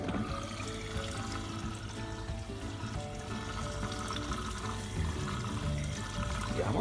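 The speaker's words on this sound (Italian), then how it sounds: "Facciamo scorrere ovviamente l'acqua." Water runs steadily from a tap while a rubber kitchen mat is being washed, a continuous close splashing flow that keeps going throughout with no voices.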